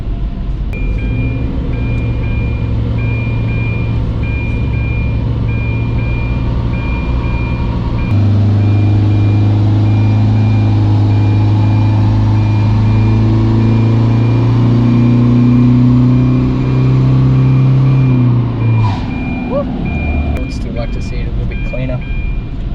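A tuned Isuzu 4JJ3 diesel engine runs loud and steady on a dyno, its drone rising in pitch through a long pull before cutting off sharply near the end, with people talking over it.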